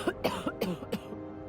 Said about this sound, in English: I want you to make some coughing sound effects